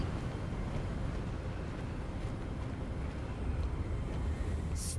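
Wind in Hogwarts Legacy blows as a steady, broad rushing whoosh, fairly soft and constant with slight swells, and carries on alone from start to finish.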